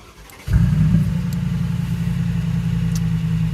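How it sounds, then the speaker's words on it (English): A Brabus G900 Rocket Edition Mercedes G-Class cranks and fires up from close by, catching with a sudden deep roar that settles into a loud, steady, rumbling idle. "For that, we will be starting the engine now."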